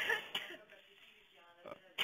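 A child's cough at home, two or three short harsh bursts separated by quiet gaps, close and fairly faint.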